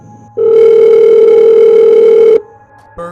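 A landline telephone dial tone hums steadily and loudly for about two seconds, then cuts off abruptly, followed by a brief click and a short return of tone, with no voices.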